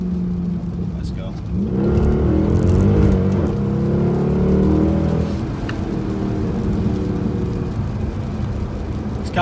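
A car's engine revs up and pulls away on a wet road in pouring rain, rising in pitch before easing back to a steady drone, with a person talking over it.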